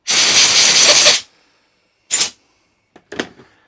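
A loud hissing blast of compressed air, clearing carb cleaner from a string trimmer, lasts about a second, followed by two shorter, fainter bursts after brief pauses.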